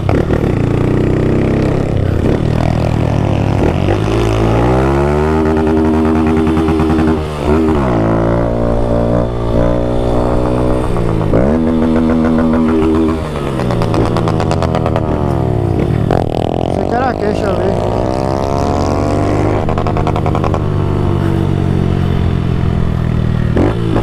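Honda Fan 160 motorcycle fitted with a Fortuna exhaust, revving loudly and close as it runs through several gear changes, each shift dropping the engine note before it climbs again, with no talking.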